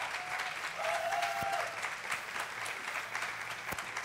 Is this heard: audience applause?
yes